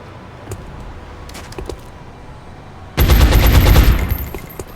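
Gunfire erupts in the XCOM: Enemy Within strategy game, a loud rapid burst lasting about a second after a few quieter clicks and thuds.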